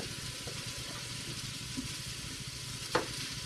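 Kolbasi sausage sizzles in a pan, a steady crackling fry throughout with a sharp clink or scrape near the end, moderately loud and close, with no voices.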